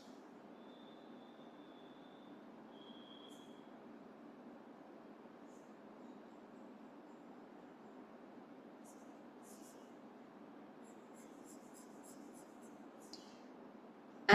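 A pencil shading a drawing of a hand on paper in a portraiture class, giving a steady, close, continuous soft scratching that runs without a break.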